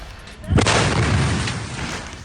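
A kamikaze drone explodes in a sudden loud blast that booms out, followed by a long rumbling, crackling roar that slowly fades; no speech.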